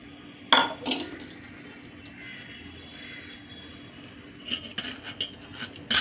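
Finely ground kokum mixture is pressed through a small sieve, giving intermittent metallic clinks and scrapes of a spoon against the mesh, near and fairly quiet, with no voices.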